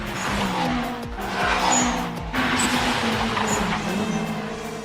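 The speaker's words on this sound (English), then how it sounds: "There goes that obsolete boom turbo of his." Two Toyota AE86s, Takumi's Trueno and Wataru's turbocharged 86, race close by with sharp bursts of turbo boost. Engines roar continuously while tires squeal through the corners.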